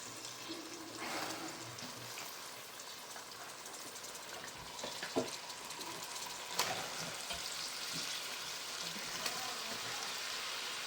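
Large surmai (kingfish) pieces fry in masala in a pan over medium heat, giving a steady, moderately quiet sizzle throughout with a few soft clinks of stirring.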